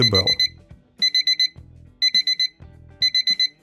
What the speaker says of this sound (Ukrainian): Будильник звучить стандартно, але доволі голосно.